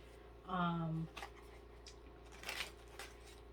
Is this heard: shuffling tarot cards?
yes